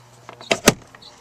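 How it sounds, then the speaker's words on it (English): Short car power window motor whirs, two brief rising bursts close together, fairly close and moderately loud, with quiet interior ambience around them and no talking. "Power windows all the way around."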